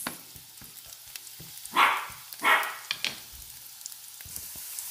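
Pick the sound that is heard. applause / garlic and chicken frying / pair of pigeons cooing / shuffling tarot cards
garlic and chicken frying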